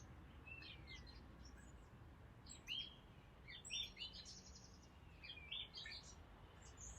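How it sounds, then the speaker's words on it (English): Birds chirping in Washbourn Gardens, several short, high tweets and calls scattered over a faint outdoor hiss, fairly distant and soft, with no talk. "The birds chirping,"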